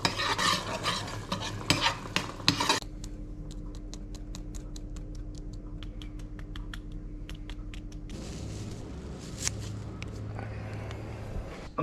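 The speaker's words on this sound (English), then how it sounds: "3 grinds of pepper maybe, just mix that in." Salt and a few grinds of pepper stirred into a sizzling pan of seabass, with quick scraping stirs at first, then a steady low sizzle with light clicks and taps.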